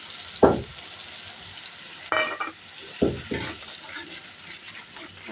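Sour yogurt goes into a frying pan of spiced masala; a few distinct stirring and scraping bursts sound over a quiet sizzle, with short pauses between them.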